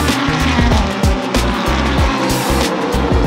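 LMP2 prototype race cars at the 24 Hours of Le Mans scream past one after another, loud engine notes rising and dropping sharply in quick succession as each car goes by.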